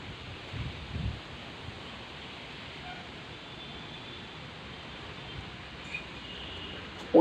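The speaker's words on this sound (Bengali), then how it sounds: "প্রচুর হাওয়া দিচ্ছে এখন" Strong wind gusts through leaves outdoors in a steady broadband rush, with a couple of slightly louder swells near the start and a sharp bump at the very end.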